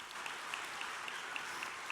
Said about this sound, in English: Give a round of applause for all the girls who are just on stage.